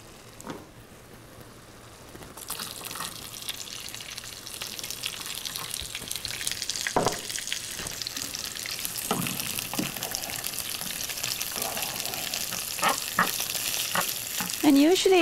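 Cumin and chopped onions fry in a pan at home, a steady broad sizzle that swells after the first couple of seconds and holds, with occasional sharper clicks and scrapes from stirring.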